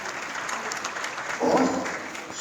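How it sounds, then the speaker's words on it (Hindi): An audience at a technology conference in Pakistan claps steadily, and the applause swells louder partway through before carrying on. "आप सबकी भरपूर तालियों में शेख ज़ीशान अहमद।"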